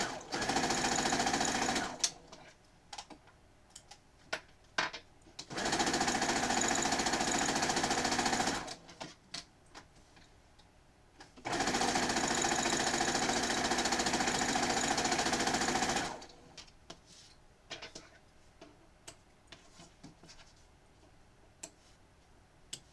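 A sewing machine stitches two fabric pieces together for a cat pillow, with long loud steady whirring runs and brief pauses. Scattered ticks and clicks fill the gaps.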